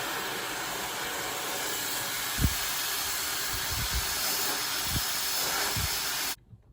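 A blow dryer runs continuously while drying and brushing out hair at home, a steady airy hiss with a few soft low bumps, then cuts off abruptly near the end.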